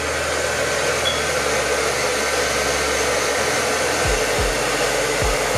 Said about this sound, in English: So now I'm gonna blow dry it.